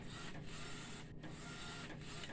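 A UV DTF printer runs steadily, its carriage sweeping back and forth in a continuous mechanical hum with brief regular dips between passes, close and fairly loud with no voices.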